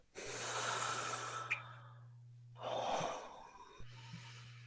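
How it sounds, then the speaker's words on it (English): A deep breath taken close to the microphone during a guided tapping session: a long audible inhale, then a shorter breathy exhale and a small final breath, quiet and unaccompanied. "Take a nice deep breath."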